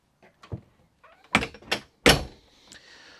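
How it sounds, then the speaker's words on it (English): A pull-out storage drawer below the microwave in a 2020 Little Guy Mini Max camper trailer slides and thumps closed, giving a few sharp knocks and sliding rasps close by, with no talk. "another pull out storage drawer below your microwave"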